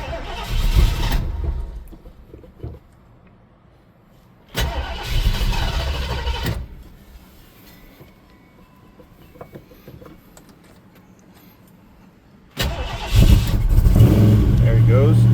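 A 1978 Ford Bronco engine cranks and fires up in several loud bursts, briefly catching and running before dropping back, then starting again near the end, with people talking between the attempts.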